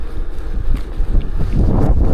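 Strong wind gusts buffet the microphone beside a lake, a loud, rumbling roar that swells and eases over a couple of seconds, with no voices.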